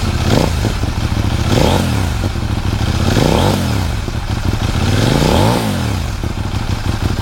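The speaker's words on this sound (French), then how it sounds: "pour un échappement d'origine, honnêtement, c'est plutôt une sonorité assez flatteuse pour un échappement d'origine" A CFMOTO 800 NK motorcycle with its stock exhaust idles loudly up close, its throbbing tone rising and falling through three smooth throttle blips.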